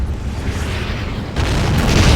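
An artillery barrage in the WWII strategy game Men of War: Assault Squad rolls on as a dense, continuous roar of overlapping booms. It is loud throughout and swells in the final second.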